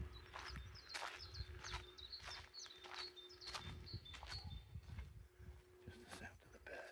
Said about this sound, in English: Just the sound of the birds singing.